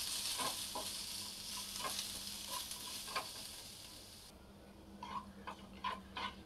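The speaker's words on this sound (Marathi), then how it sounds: "आणि या कांद्याला आपल्याला छान तांबूस होईपर्यंत भाजायचं आहे." Chopped onions frying in a little oil in a pan for a Vidarbha-style sole vange (green chickpea and eggplant) curry, with a steady close sizzle broken by repeated scraping strokes of a spoon stirring them.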